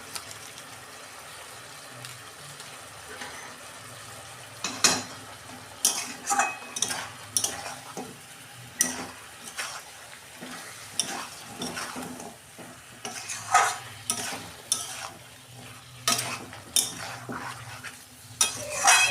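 Chicken curry being sautéed with turmeric and chilli powder in a pan, a quiet continuous sizzle overlaid with repeated scraping and clanking of a spoon stirring against the metal, the strokes arriving at an irregular rhythm.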